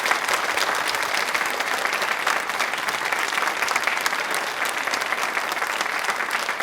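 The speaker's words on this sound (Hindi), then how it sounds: "आपके लिए एक बार तालियां जोरों से शोरों से होनी चाहिए प्लीज" Loud, sustained applause from a large studio audience at a televised quiz show, a dense and steady roar of clapping lasting several seconds with no pause.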